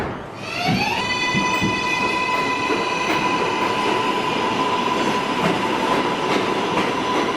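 An R188 New York City subway 7 train pulls out of the station, its rising motor whine climbing in pitch over rumbling wheels, loud and close, with no talking.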